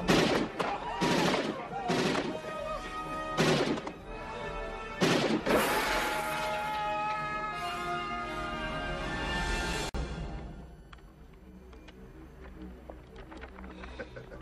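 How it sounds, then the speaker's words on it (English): Heavy gunfire and crashing impacts from a RoboCop film scene, with loud bursts of shots and blasts in the first half, then a sustained roar that fades into quieter background sound. "Watching Robocop shoot at people with his new weapon of choice, a stun gun, is nowhere near as interesting as this."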